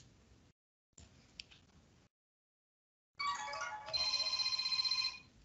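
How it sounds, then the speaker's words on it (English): A telephone rings during a math exam review lecture, a soft electronic ringtone that starts after a faint click and some quiet, then holds steady and fairly loud for about two seconds with a sustained tone. "sorry for the phone."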